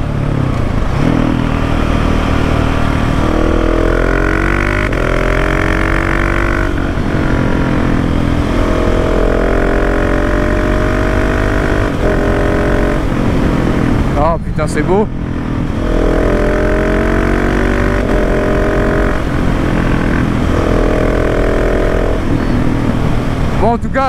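A 2019 KTM 690 SMC R motorcycle fitted with a Wings aftermarket exhaust revs hard, loud and close, its engine note climbing and falling across repeated throttle blips. Someone speaks briefly over it.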